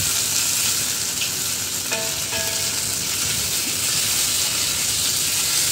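Spare ribs fry in a wok with cooking wine, a loud continuous hissing sizzle with one or two faint tonal clinks partway through.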